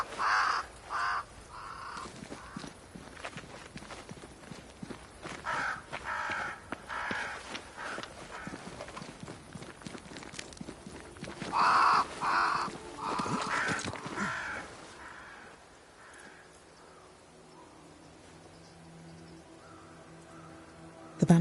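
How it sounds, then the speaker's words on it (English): Crows caw repeatedly in the video game Banishers: Ghost of New Eden, loud scattered calls through the first three quarters, then fading to a quieter ambient stretch without voices. "Crows. They flock to that great tree up there."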